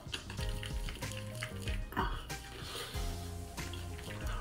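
A face washed with foaming cleanser and water during a morning routine: irregular wet splashing and rubbing that comes in bursts, close and moderately loud, with soft tonal sounds in the background.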